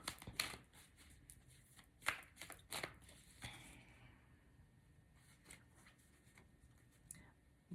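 A deck of oracle cards is riffled and shuffled, giving several quick, close papery flutters and snaps in bursts, then quieter rustling.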